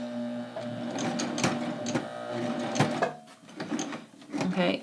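A Baby Lock Ovation serger runs a short burst of five or six stitches at a seam end, a fast whirring mechanical chatter with clicking needle strokes, up close, fading as it stops.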